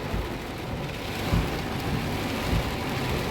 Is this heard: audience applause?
no